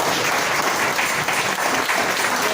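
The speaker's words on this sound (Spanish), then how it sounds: "Démosle un aplauso al Señor." A church congregation applauds during a Spanish-language service, dense steady clapping filling the whole clip, loud and close with no break.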